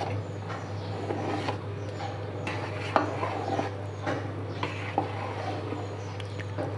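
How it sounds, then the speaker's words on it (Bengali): A spoon stirs spicy homemade haleem in a cooking pot with soft scrapes and occasional knocks against the metal, all over a constant low hum. "এখন আমি নেড়ে দিচ্ছি, আমি নেড়ে মিশিয়ে দিচ্ছি"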